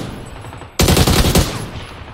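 A burst of rapid automatic M16 rifle fire in a video game breaks in suddenly after a quiet moment, loud and dense for about a second before trailing off.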